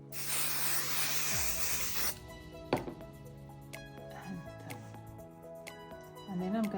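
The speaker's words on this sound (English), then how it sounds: "spray a little 505, and then do the other half." Short burst of 505 temporary adhesive spray misted onto quilt batting, a loud steady aerosol hiss lasting about two seconds, followed by quieter handling and rustling of fabric nearby.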